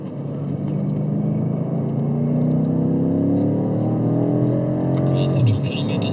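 A BMW M5 driving downhill in third gear, its engine giving a steady, loud, close drone whose pitch slowly climbs and then drops near the end.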